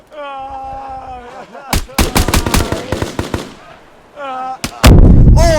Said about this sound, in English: Oh, that's a rocket launcher.